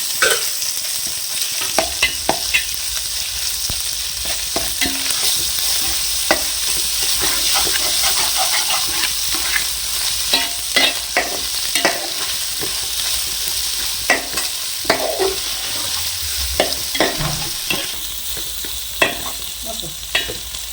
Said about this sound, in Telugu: ఇవన్నీ కూడా అల్లం చిన్నపాయ పేస్ట్ కూడా వేసేసేస్తున్నాను.